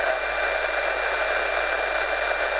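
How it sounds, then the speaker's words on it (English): RDS data signal from an FM radio receiver tuned to the data subcarrier, heard as a steady, loud hiss with a raspy buzz, continuous and unbroken, with no voices. "But you can hear it. That's RDS."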